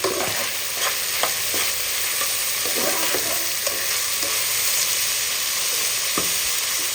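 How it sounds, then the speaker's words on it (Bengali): Capsicum is stirred in a hot frying pan for a Chinese-style vegetable dish, giving a steady sizzle with repeated scraping strokes of the spoon throughout, close and clear, with no talking. "এখন আমি ক্যাপসিকামগুলো অ্যাড করে দিলাম। এখন ভালো করে নেড়ে দিতে হবে।"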